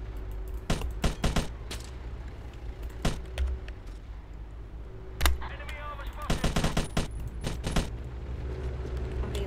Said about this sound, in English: Why am I shooting at a tank?